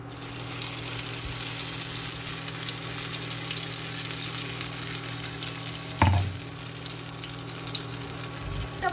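Peas (koraishuti) mixture frying in a pan for a kochuri filling, a steady sizzle with stirring scrapes throughout and a louder scrape and clatter partway through.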